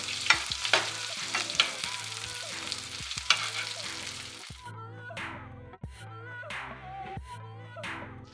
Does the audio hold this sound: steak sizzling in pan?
yes